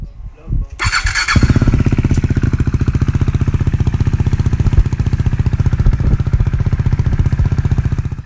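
A KTM Duke 390 motorcycle on its stock exhaust with the factory dB killer removed starts up with a brief clatter, then settles into a loud, close, steady single-cylinder idle with an even pulsing beat.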